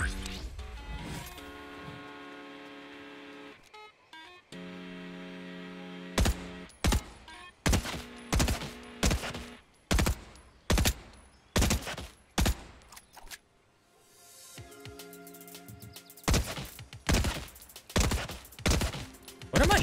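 Gunfire in the video game Fortnite, with rapid bursts and single sharp shots cracking out repeatedly, loud and close, interleaved with quieter stretches of background game sound.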